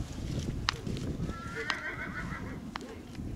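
Horses at a stable in Floresti, Cluj neigh and whinny among scattered clip-clop and stable noise, with one drawn-out whinny standing out in the middle, fairly close over a busy outdoor background.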